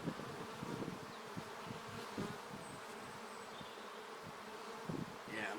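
Honeybees buzz steadily during an early season hive inspection, a close, continuous drone with a few louder passes as bees fly near.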